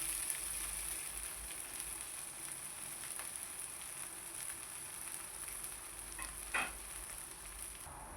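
Okra frying in a pan with onion and green chilli sizzles steadily and softly throughout, with a faint clink near the end.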